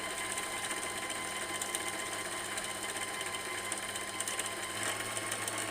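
A sewing machine whirs steadily as it winds thread onto its bobbin, a continuous even motor hum with a fine rattling texture, close and unbroken throughout.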